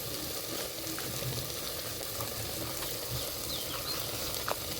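Sweet potato halwa cooking in a pan as jaggery is added, giving a soft, steady sizzle with faint stirring scrapes throughout and no voices.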